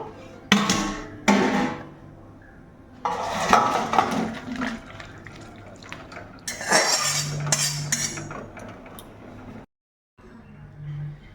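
Cooked ridge gourd, potato and bori curry being poured out of a pan, with clattering of metal cookware and utensils in a few distinct bursts, a short gap of silence near the end.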